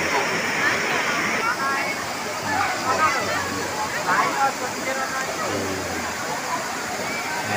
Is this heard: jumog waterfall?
yes